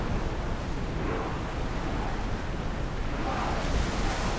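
Ship sailing across open sea in Assassin's Creed Odyssey, with a steady, continuous wash of waves and wind noise filling the whole stretch and no voices over it.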